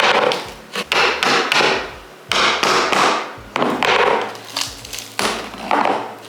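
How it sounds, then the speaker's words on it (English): Repeated hammer blows drive a screwdriver under a floor tile to pry it up during a home renovation, a series of sharp, close, woody taps and thuds in uneven bursts with brief pauses between strikes. "I literally just put a screwdriver under it and then hammer it so then it like pushes it up"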